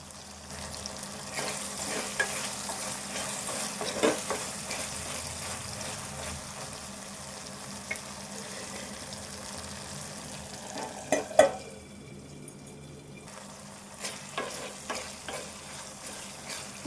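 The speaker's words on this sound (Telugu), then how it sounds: "మెత్తగా అయినాక ఇందులో రొయ్యలు వేసుకొని ఫ్రై చేసుకోవాలి." Dried prawns frying in a pan with tomato produce a long, steady sizzle with intermittent stirring scrapes and knocks, one brief louder clatter near the middle, and a short quieter pause.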